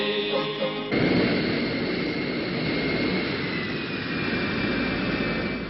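Luftwaffe combat aircraft fly over in 1976, a loud, sustained jet roar that swells abruptly after a brief lower drone and holds steady to the end with no voices.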